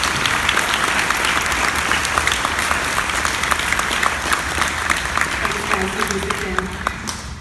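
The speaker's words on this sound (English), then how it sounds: "let's give them a round of applause, please" Audience applauding at an 8th grade moving up ceremony in 2019, steady dense clapping from a large crowd throughout, loud and sustained, fading slightly near the end.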